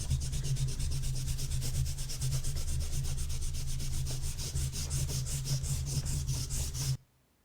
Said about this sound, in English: You grab the eraser, and you erase all your framework